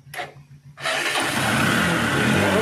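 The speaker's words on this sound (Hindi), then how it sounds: "देखिए अब हम बाइक को कर रहे हैं सेल्फ से स्टार्ट।" A motorbike's electric self-starter whirs briefly, pauses, then catches, and the engine settles into a loud, steady idle right up close.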